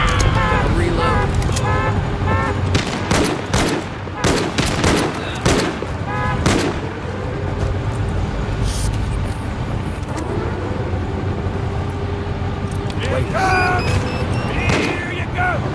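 Rapid bursts of gunfire from the zombie shooter game No More Room in Hell 2, sharp repeated shots clustered early and again near the end, with voices talking between them.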